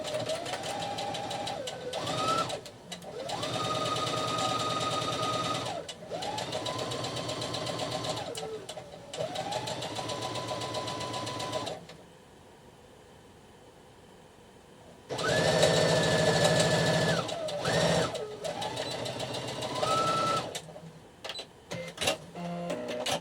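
A domestic sewing machine stitches a shoulder seam in repeated runs of steady whirring motor hum and needle chatter, several bursts of a few seconds each, stopping and restarting, with a quiet gap in the middle.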